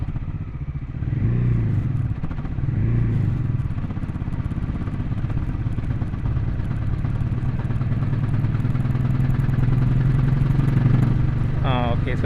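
A Bajaj Pulsar NS400Z motorcycle cruising in sixth gear gives a steady, loud engine drone with wind rush throughout, and a voice talks over it.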